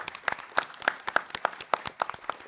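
An audience at an annual panel event applauds, brisk individual claps coming at a steady rhythm from a small group nearby, with no talking.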